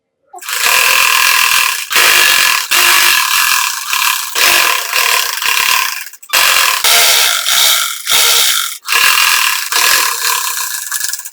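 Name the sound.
sewing machine stitching lining cloth onto blouse main cloth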